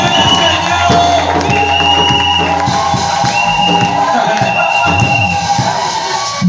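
A church congregation cheers and acclaims the Lord: loud, continuous crowd roar with whoops and shouts, with sustained musical tones running underneath throughout.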